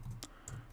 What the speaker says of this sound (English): So in this case, we'll type in House